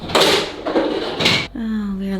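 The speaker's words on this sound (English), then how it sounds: "Drew pressed the down button for the shutters and the whole thing came crashing down" Electric roller shutters on a house in Portugal come down with a loud rolling, crunching clatter, then a steady humming motor whine as they finish lowering, with voices over the noise.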